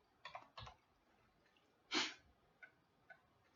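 A few soft, scattered keystrokes tap on a computer keyboard while entering an order price, quiet and close, with pauses between short clusters of clicks.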